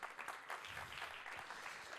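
An audience at a building-renovation business conference applauds as a speaker is called on stage. The clapping is faint, distant and continuous for about two seconds.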